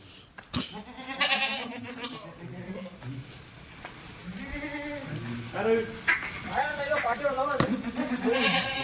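Kathiawari dairy goats bleat repeatedly, close and fairly loud, in a string of wavering calls spread across the clip, with a few quieter sounds between them.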